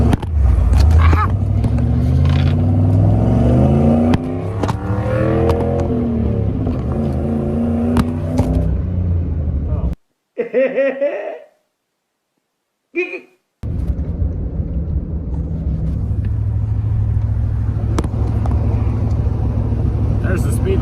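OBS Ford truck with a Saginaw steering swap accelerating hard, engine note climbing through the gears, loud and close inside the cab, then a brief near-silent gap before the rumble returns at a steadier cruise.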